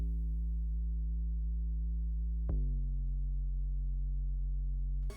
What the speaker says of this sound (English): Sub bass, just so there's low frequencies.